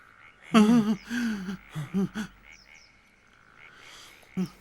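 Frogs croak in a run of short, throaty bursts, loud and close, then fade to a quieter stretch before one last croak near the end.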